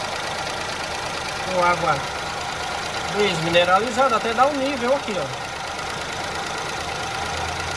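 Ford car engine idling steadily with the radiator cap open while coolant is topped up with demineralized water; a low continuous hum sits under someone speaking Portuguese.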